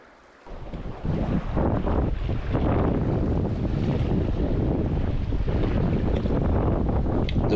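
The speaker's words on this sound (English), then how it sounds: "The wind started to get really bad" Strong wind gusts buffet the microphone beside a central Pennsylvania creek while fly fishing, a loud, continuous roaring rush that kicks in abruptly and holds steady.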